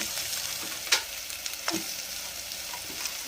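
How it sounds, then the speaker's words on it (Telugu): Whole spices such as cinnamon fry in a pan for paneer biryani, making a steady close sizzle broken by a few sharp crackles and the scrape of stirring, with no voices. "దాల్చిన చెక్క ఇవన్నీ ఉన్నాయి కదండి, ఇవన్నీ వేయించేస్తున్నాను"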